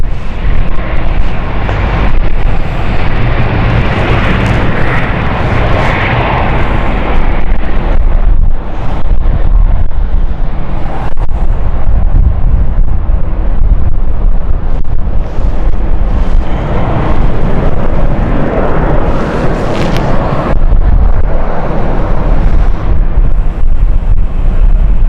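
Jet airliner landing at London City Airport, a loud, sustained roar with rushing wind noise that swells and shifts over about twenty-five seconds, close and continuous with no voices.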